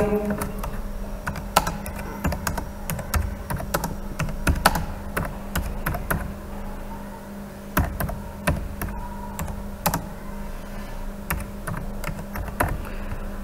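Text is typed on a computer keyboard in irregular bursts of close, crisp key taps, with brief pauses and heavier thunks over about thirteen seconds.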